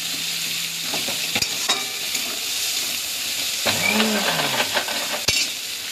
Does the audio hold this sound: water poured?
no